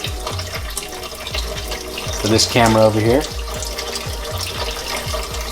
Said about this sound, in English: we're just gonna run it through the water